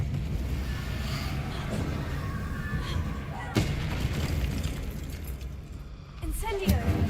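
Confringo and Incendio spell blasts in Hogwarts Legacy, a loud continuous roar with punchy bursts and a sharp crack midway, under a talking voice.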